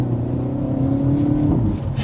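Engine of a 2026 Hyundai Elantra N sport sedan with an active exhaust, accelerating as a steady loud drone that climbs in pitch, close up and with no talk.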